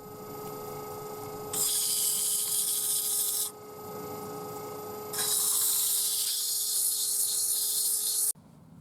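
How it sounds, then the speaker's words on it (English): Two long bursts of hissy, rasping abrasion from 400 grit sandpaper on a turned wooden pipe spinning on a lathe, over a steady low machine hum, with quieter pauses between. "Just finishing off by sanding down with some 400 grit."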